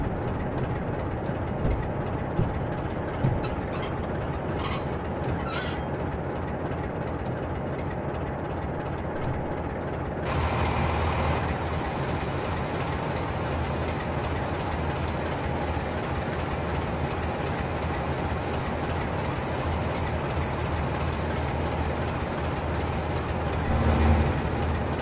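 A Class 47 diesel locomotive in Train Simulator 2015 rolls steadily on the Bristol to Exeter line while slowing to a stop, a continuous low rumble with a brief brake hiss near the end.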